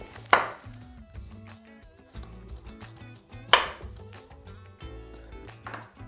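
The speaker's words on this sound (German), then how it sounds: "Haben wir es auch gleich schon geschafft und das ganze Gemüse klein geschnitten." A knife chopping vegetables on a cutting board in a children's cooking session, with quick rhythmic thuds in short bursts separated by pauses, close and clear with no talking.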